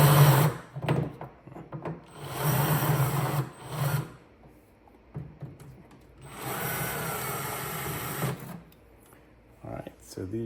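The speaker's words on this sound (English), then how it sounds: "Just use my Milwaukee right angle bit just because it's a lot easier to" A Milwaukee power drill with a right-angle attachment spins out bumper bolts on a Ferrari F430 in several whirring bursts of a few seconds each, with pauses between and someone talking over and between them.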